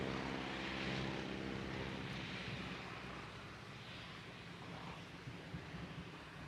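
Steady engine drone from Stearman biplanes flying an airshow display, a broad continuous roar that swells, then eases slightly, heard from a distance with wind-like noise and no voices.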